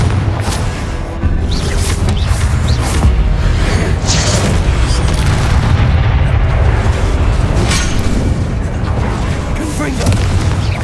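Repeated Confringo fiery spell blasts in Hogwarts Legacy combat, a continuous barrage of loud booming explosions and bursts with dense low rumble, close and heavy throughout, with voices calling out spells over the chaos.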